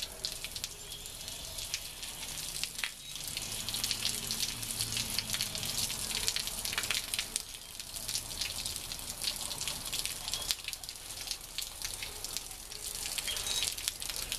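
Steady rushing water flows continuously through a hose flushing a 1973 Plymouth Valiant heater core, with splashing and dripping textures, fairly even in loudness throughout and with no voices.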